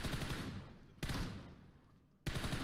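Multiplayer video game gunfire sounds as dense, rapid volleys of shots in three distinct bursts separated by brief breaks, fairly faint and with no clear talk.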